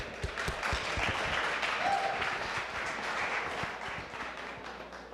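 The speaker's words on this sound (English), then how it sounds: "Ladies and gentlemen, please give it up for Adeel." Audience applause for a stand-up comedian being introduced on stage, a dense, steady wash of many hands clapping from a large crowd that holds loud throughout and eases slightly toward the end.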